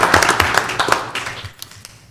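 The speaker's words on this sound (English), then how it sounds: "Round of applause in order." A brief scattering of applause breaks out at a county commission meeting, a handful of people clapping loosely at first and then tapering off into a few isolated claps.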